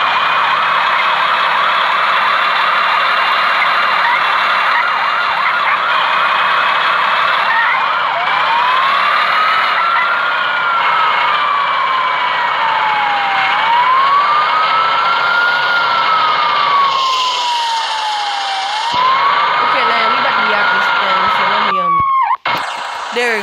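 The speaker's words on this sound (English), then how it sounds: "Turn off that siren." A fire truck siren from the Fire Truck Driving Simulator video game wails loudly and continuously, its pitch sweeping up and down in long slow cycles before cutting off abruptly near the end.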